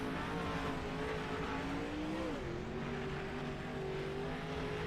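Engine drone from 360 sprint cars on the dirt oval at Fairbury Speedway in iRacing, a steady layered hum of several motors heard from a high vantage, with one pitch sweeping briefly midway.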